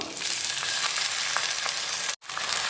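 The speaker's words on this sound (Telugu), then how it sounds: "ఈ దొండకాయ ముక్కలు ఇందులో వేసి ఫ్రై చేసుకుందాం" Ivy gourd pieces fry in hot oil in a pan with a steady, dense sizzle throughout, close and loud, briefly cut to silence near the end.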